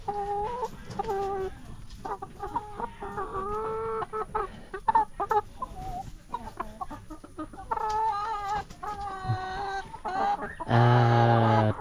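Chickens cluck and chatter continuously nearby, overlapping calls rising and falling, ending with a louder, drawn-out squawk.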